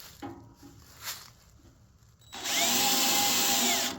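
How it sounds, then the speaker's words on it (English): A few faint taps and thumps, then a power drill whirs up loudly at high speed and bores steadily into material for over a second. "Drill on low speed, it's better for your bit."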